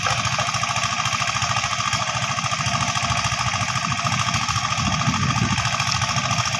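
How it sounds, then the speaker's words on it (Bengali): A clay-softening machine used for brick making runs loud and close, giving a continuous engine-like drone with a steady, rapid thumping pulse that never lets up. "এটা হলো মাটি নরম করা মেশিন।"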